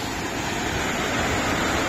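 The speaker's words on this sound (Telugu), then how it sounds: "గైస్ కింద వాటర్ ఫ్లో సౌండ్ వినండి ఎలా ఉందో" Water rushes and churns steadily at the base of a waterfall near Guna Caves, a dense, continuous roar with no pause, close and fairly loud.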